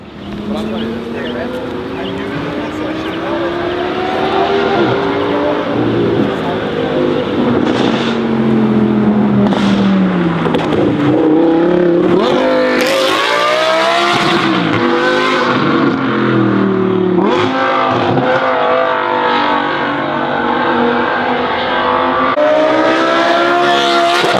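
An Audi R8 sports car engine revs and accelerates through the gears, rising and falling pitch, loud from inside the car, with voices talking over it at times.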